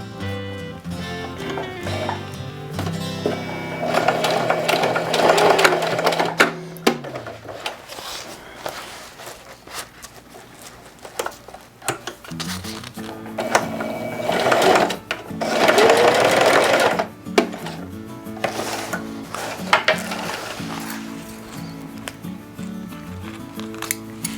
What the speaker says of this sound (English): So I'm going to go in and stitch and back stitch where it ends so the stitching doesn't come out.